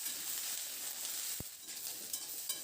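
Mixed vegetables fry over high to medium flame in a pan while being stirred, a steady soft sizzle running throughout with one brief clack of a utensil midway.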